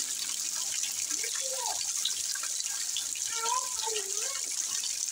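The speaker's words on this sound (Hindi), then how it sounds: "ऐसा बरस रहा है पानी" Steady heavy rain mixed with hail falls on a village, a constant even hiss throughout, with a voice speaking faintly over it.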